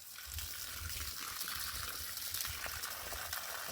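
Water gushes and splashes at the base of trees in a field, a steady close pouring rush with small irregular splashes.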